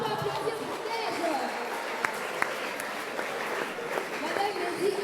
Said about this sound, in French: est-ce qu'on peut applaudir pour Dej?